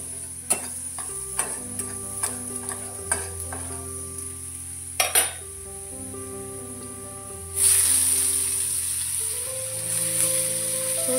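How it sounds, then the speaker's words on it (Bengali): A small pinch of cumin seeds goes into the hot oil left after frying fish for tempering. Faint clicks come first, then a steady sizzling hiss rises in the second half under soft background music. "এর মধ্যে একটুখানি হালকা করে জিরে ফোড়ন দিয়ে দেবো"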